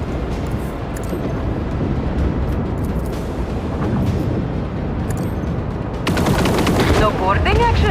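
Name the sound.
gunfire from shooting in a video game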